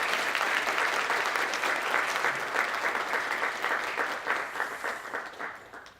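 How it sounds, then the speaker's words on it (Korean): A church congregation gives a round of applause in thanks for a pastor at an education seminar opening service, full sustained clapping that gradually thins and fades toward the end. "우리 고승희 목사님 우리 감사의 박수 한번 보내드립니다."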